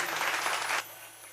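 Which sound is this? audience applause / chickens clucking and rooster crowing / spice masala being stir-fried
audience applause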